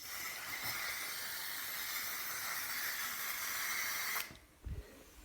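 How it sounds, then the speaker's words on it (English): Disinfectant sizzles while an airsoft gun is being cleaned, a steady, close hiss lasting about four seconds that cuts off abruptly, followed by a faint knock. "Hear the sizzle."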